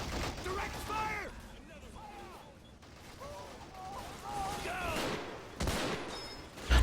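Bursts of battlefield gunfire from the video game Men of War Assault Squad 2 crackle and rattle through a busy combat soundscape, with voices talking over it and a sharp loud shot near the end.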